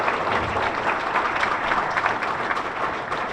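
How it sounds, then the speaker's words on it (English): Steady applause from a crowd at a sports awards luncheon, continuous clapping at an even level throughout with no pauses. "Y'all can clap, all 5 of them"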